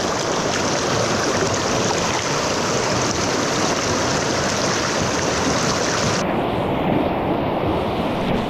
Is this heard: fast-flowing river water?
yes